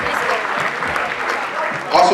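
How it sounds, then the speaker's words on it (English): Audience clapping at a university medical students' annual public lecture, a steady spread of hands applauding throughout, swelling slightly louder near the end. "Please give her a round of applause."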